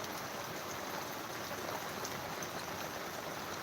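Heavy rain pours steadily in Dumlav village, Pardi taluka, during unseasonal winter rainfall, making a dense, even hiss close by with no break and no voices.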